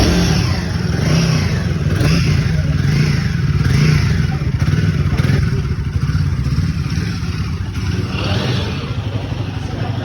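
A Royal Enfield Guerrilla 450 motorcycle engine runs loud and close, its exhaust giving a steady rumble with repeated rising and falling revs throughout.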